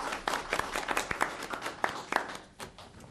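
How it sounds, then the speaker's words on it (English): Audience applause at a city council meeting in Muskogee for Robin Orman: sparse, uneven clapping from a modest crowd with individual claps standing out, brief and moderately quiet. "why don't we give a round of applause to Robin Orman"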